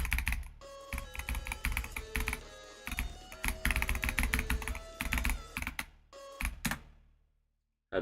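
Rapid clattering keystrokes on a computer keyboard during a live chess stream, dense bursts of clicks with short pauses, falling silent near the end before a final thump.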